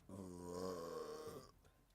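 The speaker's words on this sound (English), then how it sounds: "And that was a massive burp." A single massive burp, loud and close, drawn out for over a second with a strong low buzzing tone before it breaks off into quiet.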